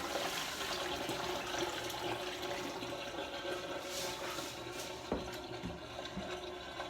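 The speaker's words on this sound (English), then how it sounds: "now dumping that water" Water from a 5-gallon fish tank pours steadily through an old strainer that catches the gravel, a continuous close splashing gush with a few brief knocks near the end, no talking.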